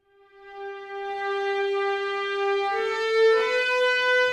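A sustained, smooth sampled string tone from Cinematic Studio Strings, legato without vibrato, swelling in and holding steady, gliding to a slightly different pitch partway through, alone with no talking.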